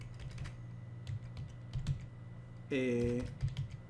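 Keys clatter on a computer keyboard as a place name and a comma are typed into an Excel dialog, in short irregular bursts of clicks beneath a steady low hum, with a brief tonal blip near the end.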